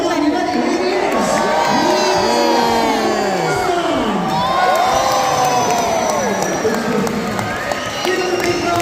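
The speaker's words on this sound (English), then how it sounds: "Cheer them on, you ready?" An audience at a sea lion show cheers loudly and continuously, with many children shouting and whooping in rising and falling cries, a dense crowd roar close by with voices throughout.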